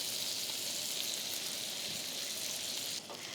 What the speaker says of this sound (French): Donc là, tu vas arroser finalement ton poisson.